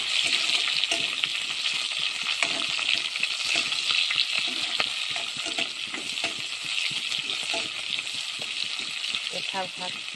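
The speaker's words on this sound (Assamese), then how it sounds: "পিঠা ভাতটো নাইকিয়া হোৱাকৈ ভাজি লওঁ।" Pitha rice frying in a pan for a khar-style matar dish, a steady close sizzle with scattered stirring scrapes and clicks running throughout.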